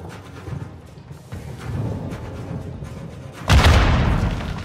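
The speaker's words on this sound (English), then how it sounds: "Grenade!" A grenade explodes in Call of Duty: Modern Warfare II, a sudden loud, close boom near the end that breaks through low background rumble and fades into a rolling tail.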